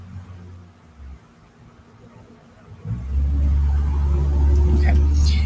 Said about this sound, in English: Here comes another mail truck.